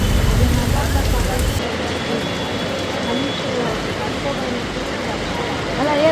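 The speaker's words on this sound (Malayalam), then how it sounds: "നല്ല മഴ പെയ്യുന്നുണ്ട്." Steady, dense hiss of heavy rain pouring continuously on a street in Chickpet, Bangalore, loud and unbroken, with a faint low rumble underneath.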